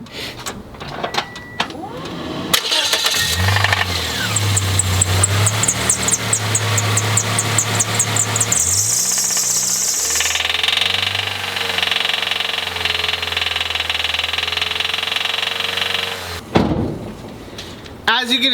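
A car's engine runs with a knock after being three quarts low on oil, giving a close mechanical whir with rising and falling tones that settles into a steady hum before cutting off.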